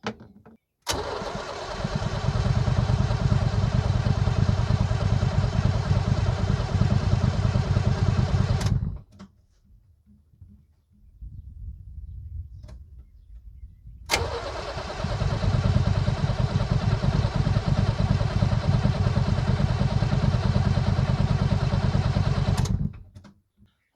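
A 1978 International Scout II diesel engine cranks over on the starter in two long, loud, steady runs separated by a pause of several seconds, with no catch or start.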